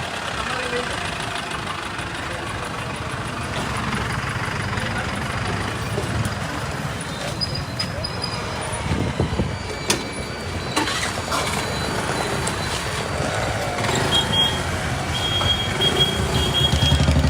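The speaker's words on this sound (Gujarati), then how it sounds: "આ ક્રેન આવી ગઈ છે અત્યારે અને આ ગાડી આપણે ટોઈંગ કરાવવાની" A tow crane truck's engine idles in a steady low diesel rumble with occasional clanks and thumps, in a roadside setting in Surat, with faint voices in the background.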